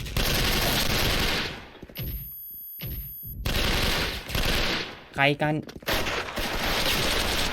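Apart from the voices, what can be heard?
gunfire in a video game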